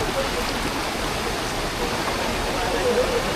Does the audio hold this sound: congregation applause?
no